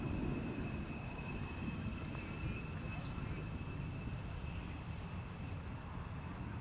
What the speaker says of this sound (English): Emirates A380 coming this way, being preceded by just one little airplane.